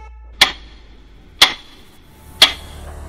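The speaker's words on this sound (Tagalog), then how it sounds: "sa pagpitik ng pindulo ng orasan ng segundo" Three sharp, evenly spaced clock ticks, about one second apart, ring out crisp and close against a quiet background with no voices.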